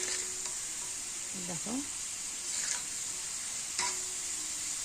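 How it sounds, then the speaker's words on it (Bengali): Potatoes fry in oil with nigella seeds, a steady, moderately close sizzling hiss that runs throughout, with someone briefly speaking over it. "কালো জিরে সম্বাদ দিয়ে আলুটা ভেজে নিলাম।"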